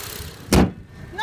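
The hood of a silver 2014 Honda CR-V is shut with a single loud, close thump, followed by a brief voice.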